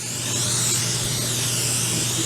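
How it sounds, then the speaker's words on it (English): Cooking spray hisses from a can onto a cake pan in one steady burst that lasts a couple of seconds, close and fairly loud, with no talking over it. "Spraying it now is not going to do anything."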